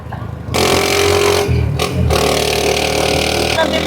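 A second-hand motorcycle on a road test along Marilaque, a loud close engine roar that kicks in sharply and holds steady with rev changes, wind noise over it.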